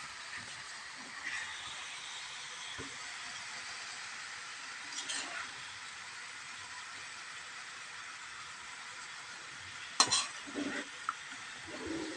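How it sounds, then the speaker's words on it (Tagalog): Lumpia vegetable filling stirred gently in a small frying pan, a quiet steady sizzle under soft scraping with a few brief utensil clinks toward the end. "Dahan lang natin haluin, guys, para hindi kasi maliit yung aking kawali."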